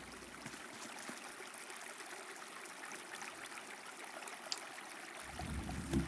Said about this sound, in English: We ran into water.